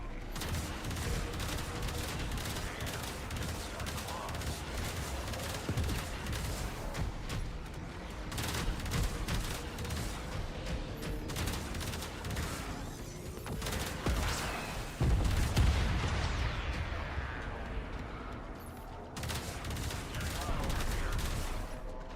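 Sustained turret gunfire in the sci-fi game Warframe, a dense, steady barrage of rapid shots and booms running throughout alongside music and effects, with a voice speaking in places.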